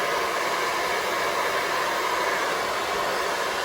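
A hair dryer blows steadily as hair is dried downward in a hair-styling session, a constant loud airy whoosh with no breaks.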